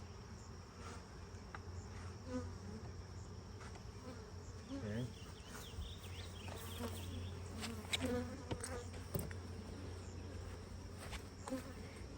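Bees buzz and drone steadily around an open beehive during an inspection, with occasional louder passes near the listener, faint handling sounds and a brief spoken word.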